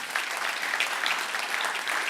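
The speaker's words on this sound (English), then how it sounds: "You can give him a round of applause." An audience at a Cayman Islands event claps in steady, dense applause, even in loudness from start to finish with no voices over it.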